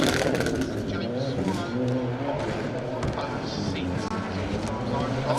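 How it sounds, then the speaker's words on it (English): A Lotus Exige rally car with a big rear wing races along a rally stage, its engine note rising and falling in the middle distance while a commentator talks over it. "that's a great looking car, isn't it, with its huge wing flapping around a bit on that Lotus Exige"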